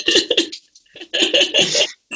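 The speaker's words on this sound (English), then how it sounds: "finished coughing out whatever came through her" Several harsh coughs in quick bursts, close and loud, with brief pauses and a throaty, raspy edge between them.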